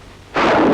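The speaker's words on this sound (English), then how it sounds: "The bazooka." A bazooka fires in Korean War combat footage, a single loud blast that erupts suddenly and sustains a broad roaring rush, with no talk.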